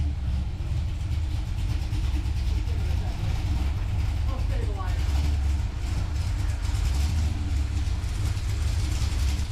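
Steady, loud engine drone from a car on a dyno during a power pull, a dense low rumble held throughout with little change in level.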